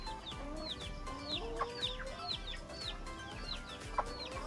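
A native hen clucks in a repeated series of short calls, with other fowl calling faintly in the background over a low steady hum.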